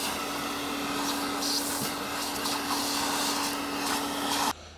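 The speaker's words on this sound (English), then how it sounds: "Got that vacuumed out." A shop vacuum runs steadily while cleaning out the interior of a 1964 Jeep CJ5 barn find, a constant close whine and rush that cuts off abruptly near the end.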